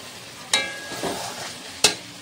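Fried vegetables go into a pan of spice mixture seasoned with turmeric and sugar, bringing a soft sizzle and two sharp metallic clanks of the spoon against the pan.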